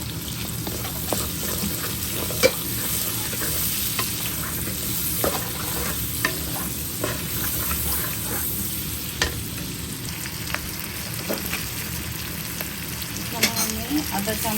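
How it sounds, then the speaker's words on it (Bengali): Sliced onions being stirred and lightly fried in oil for a Chinese-style shrimp dish, a steady close sizzle running throughout with occasional scraping clicks of the spoon, no talking. "পেঁয়াজগুলি নেড়ে ছেড়ে হালকা ভেজে নেব"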